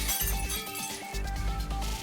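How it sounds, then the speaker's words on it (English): Glass shattering in the Fate/Stay Night Remastered video game, a brief breaking crash with bright clinks, set against sustained musical tones throughout. "I hear glass shattering"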